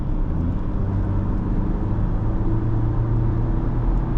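A 2024 Ford Ranger XL STX with a 2.3-liter engine accelerating in regular traffic, heard from the cabin as a steady low engine rumble and drone with road noise, fairly loud and unbroken.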